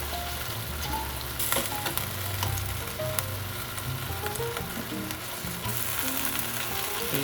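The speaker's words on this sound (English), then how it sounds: "I'm gonna flip these bad boys over" Garlic parmesan chicken skewers sizzle steadily in a hot air fryer while being flipped over, with a constant close frying crackle and a few clinks and light handling knocks.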